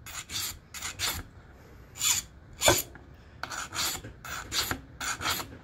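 Steel file rasping along the edge of a single-bevel broadhead, about a dozen short separate strokes in an uneven rhythm, close and clear with no talking.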